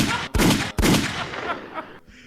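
Gunshot sound effects: two loud, sharp blasts in quick succession, each followed by a decaying reverberant tail that fades out, with no voices over them.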